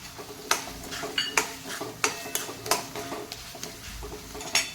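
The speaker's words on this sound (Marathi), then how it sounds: "यामध्ये मी बटाटा कापून घेतलेला होता तो टाकून घेते" Cut potato pieces tumble into a pot of cooked masala, making a series of sharp clatters and knocks against the metal at irregular intervals, fairly quiet overall.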